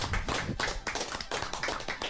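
Live audience applause rings out in a burst of rapid, dense clapping from a small crowd, continuous and fairly close with no talking over it.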